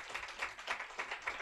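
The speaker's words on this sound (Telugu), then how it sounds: "చప్పట్లు కొట్టి ప్రభుని మహింపరచు" A church congregation claps hands together in steady rhythmic praise, sharp bursts repeating about every quarter second, close and fairly soft with no voices over it.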